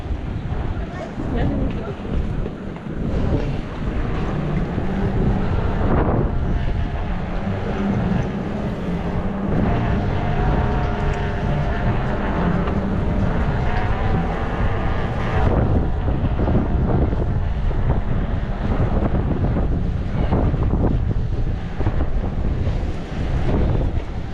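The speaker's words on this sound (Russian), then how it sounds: "Ветер сегодня." Strong wind roars continuously across the microphone on a seafront in Yalta, rough seas nearby, buffeting steadily and loudly for the whole stretch while someone talks over it.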